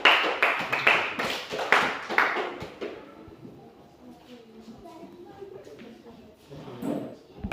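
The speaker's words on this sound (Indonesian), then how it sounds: "Tepuk tangan dulu sama kelompok 2." Students in a classroom clap for a presenting group, with quick sharp claps in the first few seconds fading out, followed by quieter room noise and scattered voices.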